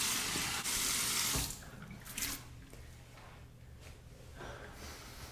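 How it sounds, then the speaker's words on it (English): Hot water running from a bathroom tap into a sink, splashed onto the face before a shave: steady close gushing with splashing and interruptions as hands cup the water, no speech. "I'm going to warm up my face with some hot water"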